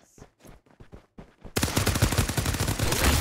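Gunfire in the battle-royale game Farlight 84: a few faint, scattered sounds, then loud, sustained automatic fire that bursts in rapidly and keeps rattling densely to the end.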